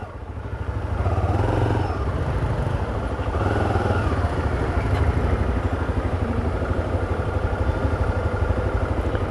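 A motorcycle rides through heavy city traffic in Natal, its mid-pitched engine loud and close with a steady throbbing drone, slight swells as it accelerates, and continuous road and wind noise beneath.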